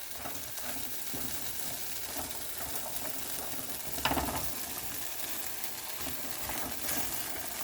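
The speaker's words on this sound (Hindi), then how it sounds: "भिंडी तैयार है, सॉफ्ट हो गई है, अच्छी हो गई फ्राई" Okra frying on a tawa, a continuous close crackling sizzle with occasional stirring bursts and scrapes, steady and moderately loud throughout.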